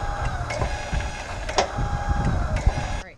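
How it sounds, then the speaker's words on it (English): An RV tongue jack motor with stripped gears whirs and grinds with a rough mechanical rattle and a few clicks for about three seconds, fairly close, then cuts off. "the gears inside the tongue jack are like stripped"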